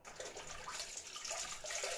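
Hot water runs from a tap while the face is wetted before a wet shave, a soft, steady splashing flow heard close but quietly, with no voices.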